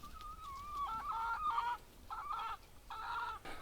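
Several chickens, including hens named Starfire and Q-Tip, cluck in a series of bursts separated by short pauses, fairly close, with no talking.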